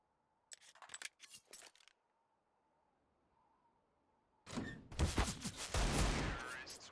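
Counter-Strike gunfire comes in two bursts: a few sharp clustered shots early on, then a quiet stretch, then a louder, denser volley of rapid shots with metallic clinks, heard close up and without talk.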